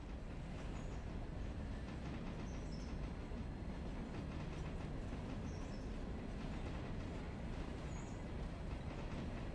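Steam locomotive coasting downhill without power in the Railroader game, a steady dense rumble with continuous clickety-clack of wheels over rail joints and faint high squeals from the wheels, unbroken throughout.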